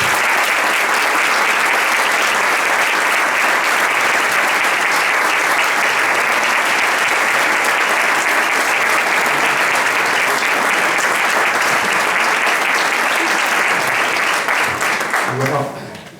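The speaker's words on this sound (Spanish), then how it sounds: "voy a pedir otro aplauso para él y para Fernando" Strong, continuous crowd applause for two speakers at a lecture held by a religious brotherhood, dense clapping that stays loud for roughly fifteen seconds before a voice enters as it dies away.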